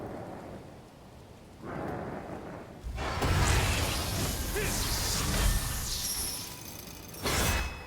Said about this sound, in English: Hard to hate thunderstorms.